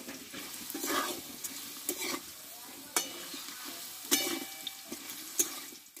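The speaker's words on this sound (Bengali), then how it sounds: "খুব অল্প আছে আমি আলুটা ধীরে ধীরে কষে নিব" Salted potatoes frying slowly in a little oil in a pan, a soft continuous sizzle broken by several louder scraping stirs spaced a second or so apart.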